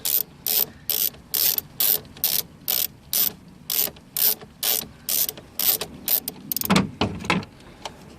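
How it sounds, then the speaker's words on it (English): A ratchet with a 10mm socket loosens the battery ground on a BMW with an N20 engine, giving a fast, even series of close, sharp metallic clicks that turn into a quicker, busier flurry near the end. "All of them are going to use a 10mm socket. So you just come back here, loosen the ground,"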